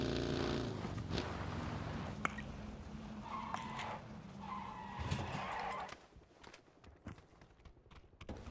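A buggy in the PUBG battle royale game drives across terrain and skids, a steady engine roar with scraping tire noise and brief squeals, loud and close, fading lower near the end.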